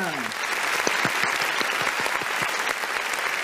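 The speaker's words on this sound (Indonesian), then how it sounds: "Tepuk tangan dulu untuk kita semua." Loud, continuous audience applause at an ideathon event, a dense wash of many hands clapping with no pause for the whole short stretch.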